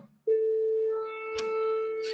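A single cell phone plays a steady pure test tone, one sustained loud note with faint overtones and a brief click partway through.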